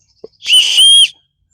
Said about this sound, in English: and is this another whistle?